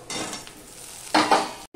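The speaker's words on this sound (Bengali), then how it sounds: "পেঁয়াজটা পুরো লাল না, একটু কালারটা চেঞ্জ হয়ে এসেছে, তখন আমি এই আলুগুলো দিয়ে দিলাম।" Sliced potatoes fry with lightly browned onions in a pan, with a low sizzle. A spoon scrapes and stirs them in two quick, close, louder strokes near the end.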